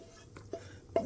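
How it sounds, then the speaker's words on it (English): Raw ground beef hamburger dumped into an oiled pot for smoked cowboy beans gives two short soft plops, with quiet stirring noise between them. "Let's go ahead and dump our hamburger in here."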